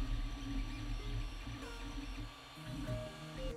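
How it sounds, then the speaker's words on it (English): A Creality Ender-3 3D printer running a print, a fairly quiet steady hum and whir of stepper motors with shifting tones as the head moves, heard close and alone. "The noise is not that bad. During printing, it is around 52 decibels."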